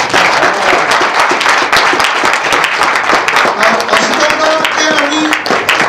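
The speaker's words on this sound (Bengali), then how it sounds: "জোরে একটা হাততালি হোক।" A hall audience at Mahajati Sadan claps loudly and rapidly, sharp overlapping hand claps forming a steady roar, with voices and some tonal sounds mixed in toward the end.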